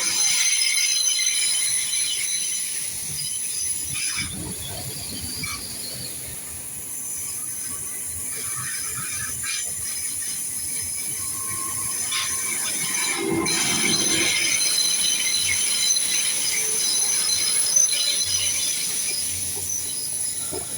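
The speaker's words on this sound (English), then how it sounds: "on a Great Western Railway service from London Paddington to Penzance, going rather slow." Great Western Railway class 800 train on a London Paddington to Penzance service passing slowly at Teignmouth, with continuous high-pitched wheel squeal over a low rolling rumble, steady and fairly close for about twenty seconds.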